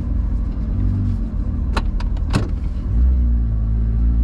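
A Porsche 992 GT3 RS on a race track gives a loud, steady engine rumble close by, with a few sharp clicks or ticks partway through and a deeper surge toward the end.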